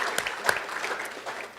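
Many hands clap together in a steady, full round of applause from a spelling bee audience at a Rockcastle County Schools district event, holding level throughout with a few louder individual claps near the front.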